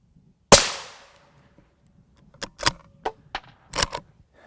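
A rifle firing M193 ammunition into Level III ICW body armor sounds as one loud, sharp crack with a short decaying ring, followed by several quieter clanks and impact sounds.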